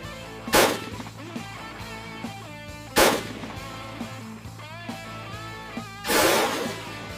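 Three loud, sharp gunshots ring out at roughly even intervals in a bullet-versus-fly slow-motion experiment, each one a sudden crack followed by a short decay, with a steady background hum and some faint clicks between them.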